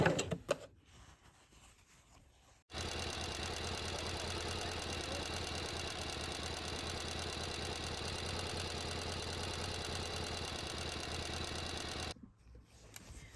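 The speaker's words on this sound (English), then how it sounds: "we're going to do a couple stitches, back stitch, and then sew it all the way across" A sewing machine runs steadily for about ten seconds, stitching straight across a cotton burp cloth after a few back stitches, a continuous close mechanical whir with quiet handling noise before and after.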